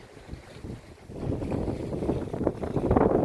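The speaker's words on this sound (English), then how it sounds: "We have the whole Genoa up. Oh, it's flapping a bit." A genoa sail on a sailboat off the east coast of Tasmania flaps in about 15 knots of wind, a rough, fluttering rush that swells over a few seconds, mixed with heavy wind buffeting on the microphone and water noise.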